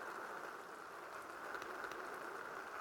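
Rain falling in the Roblox game Bloxburg, a soft continuous hiss of droplets with faint scattered pattering, steady and quiet with no talking.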